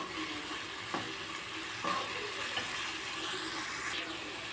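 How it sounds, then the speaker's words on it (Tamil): Egg is stirred into a bitter gourd stir-fry frying in a pan, giving a quiet, steady sizzle broken by a few scraping stirs of a spatula. "எக்கு போட்டு நல்லா கிளறி விடுங்க"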